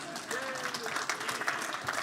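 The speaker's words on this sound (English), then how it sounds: "Now you got to keep clapping them all the way." An audience at a cryptocurrency summit claps steadily as a speaker walks to the stage, moderately loud continuous applause with individual claps popping out and a brief tone in the background.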